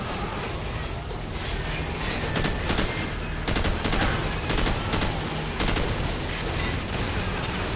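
Sustained machine gun fire in the Call of Duty 4 mission The Bog, dense rapid bursts of loud gunfire that continue without a break across the whole stretch.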